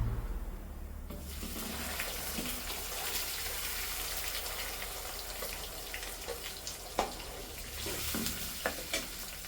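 Ground tomato paste poured over browned garlic in a hot pan, giving a steady broadband sizzle and wet bubbling from start to finish, with a few soft clicks of a utensil near the end; no one speaks.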